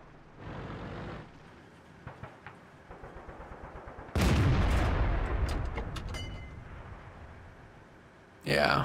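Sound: tank gunfire in video game World of Tanks

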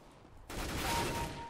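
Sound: gunfire in Counter-Strike VR video game

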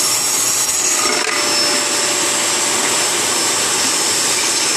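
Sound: vacuum cleaner running

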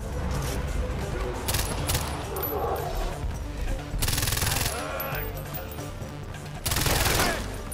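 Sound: gunfire while driving in the video game Far Cry 4

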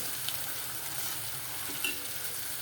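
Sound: chopped tomato frying in hot oil

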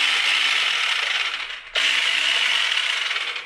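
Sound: Ryobi 18V One+ battery clicking onto trimmer

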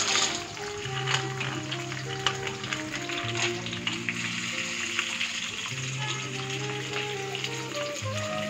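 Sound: peanuts and coconut pieces frying in oil

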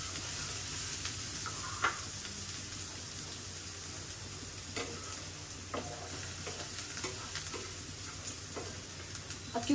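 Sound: frying ingredients for mushroom chilli

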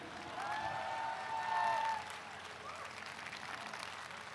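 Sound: audience applause for a jazz quartet

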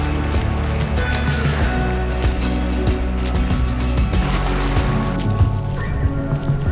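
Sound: water splashing while swimming

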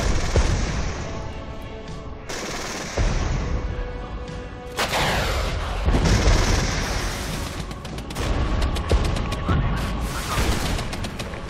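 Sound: artillery fire in video game Regiments

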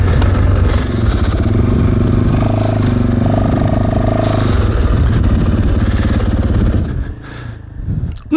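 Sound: Fantic 450 Rally motorcycle climbing steep slope

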